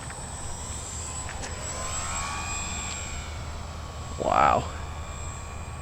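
Dynam P-51 Mustang V2 RC model plane making a slow low pass with gear and full flap down: a continuous electric motor whine under a steady wind-like background, swelling briefly as it passes close, with a short spoken exclamation.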